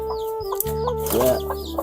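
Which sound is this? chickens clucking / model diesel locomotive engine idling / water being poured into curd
chickens clucking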